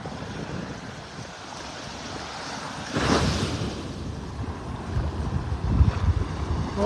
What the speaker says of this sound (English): It's because of these little waves here churning up the bottom.